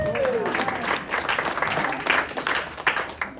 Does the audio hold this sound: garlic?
no